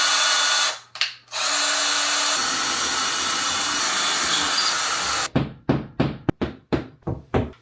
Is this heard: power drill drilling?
yes